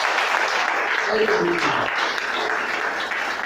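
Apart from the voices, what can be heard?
church congregation applauding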